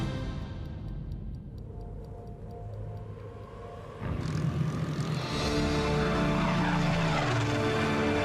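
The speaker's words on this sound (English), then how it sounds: "This is the Silver Spitfire, and the dream takes flight." Supermarine Spitfire, the polished Silver Spitfire, flying overhead: a steady propeller-engine drone that swells louder and fuller about halfway through and holds near, with no talk.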